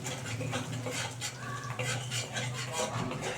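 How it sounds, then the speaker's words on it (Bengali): A spoon stirs coriander-leaf egg curry in a pan over low heat, with soft, repeated scraping and light clinking against the metal, close and continuous, with no talking. "এবার কিন্তু আস্তে আস্তে আমি মিশিয়ে নিচ্ছি"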